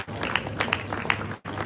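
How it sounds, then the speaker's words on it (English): Audience applause at the Trade Lenda Fair 2023 business event: a dense, steady patter of many hands clapping from a crowd, a few sharper claps standing out, briefly cutting off near the end before resuming. "A lot of applause for her."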